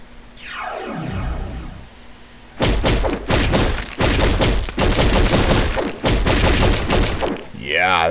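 Weapons fire in Doom 2 tears through trees, a long burst of loud, rapid, repeated blasts and crunching impacts after a descending whoosh, ending in a warbling sound effect, with no talk over it.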